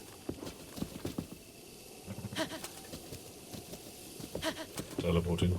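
Horse hooves clip-clop in The Legend of Zelda: Breath of the Wild, a rhythmic series of soft, fairly close footfalls mixed with game sound effects, with a voice talking over them.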